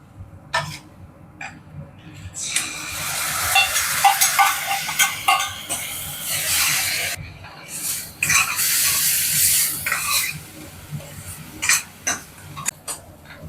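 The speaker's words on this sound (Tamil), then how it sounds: "இப்போ இஞ்சி பூண்டு பேஸ்ட் போட்டுக்கலாம்." Ginger garlic paste hits hot oil for an egg gravy and sizzles in loud bursts that rise and fall, near and close, with brief clatters of stirring in between.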